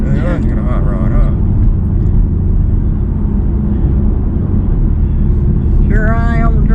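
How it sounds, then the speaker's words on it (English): Steady loud rumble of a 455-horsepower Camaro SS hot rod engine from inside the cabin while an elderly woman drives, with voices talking briefly at the start and end. "Here I am driving a hot rod"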